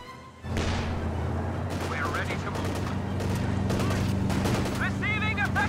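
Heavy machine gun fire rattles in a strategy video game, dense sustained bursts over a constant engine-like drone, with voice lines and battlefield chatter layered on top.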